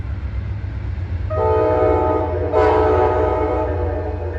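An Amtrak GE P-42 Genesis diesel locomotive, number 203, sounds its horn over a steady low engine rumble, two long chord blasts, the second starting with a sharper attack.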